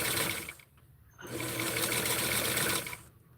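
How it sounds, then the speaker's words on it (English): A sewing machine runs in quick bursts while stitching polyester-blend fabric: a short whirring run, a brief pause, then a longer steady mechanical hum at close range before it stops again. "So just do a very quick, easy sewing."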